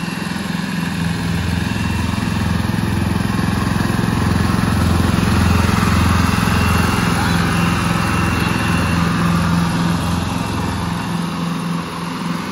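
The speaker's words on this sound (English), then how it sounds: "She's enjoying the mowing." A lawn mower cutting dry grass runs as a loud, steady engine drone close by, holding without a break for the whole stretch with no pauses or speech above it.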